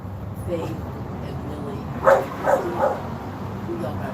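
A red-nosed pit bull barks from an open car window, three quick, fairly close barks in the middle of the clip over road or engine rumble, with talk around them.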